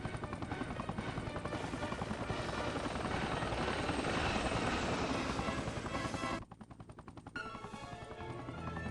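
Helicopter in the Spider-Man 2 video game, a loud, dense rotor chop that runs steadily, then drops out briefly and returns. Rapid gunfire-like crackle mixes in.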